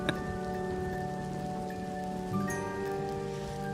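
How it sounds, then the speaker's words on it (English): Steady rain falls within a stripped-down song, a continuous hiss of drops sitting under sustained instrumental tones for a few seconds, with no voices. "It's raining."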